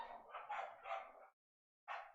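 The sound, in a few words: dogs barking in background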